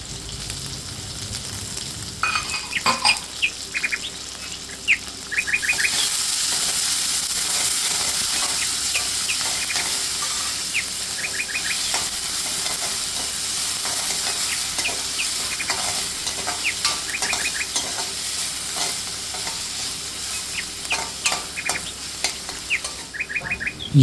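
Chopped onion and capsicum fry with asafoetida in a pan, a steady bright sizzle that swells as the vegetables go in, with occasional stirring scrapes and chirping birds in the background, no talk.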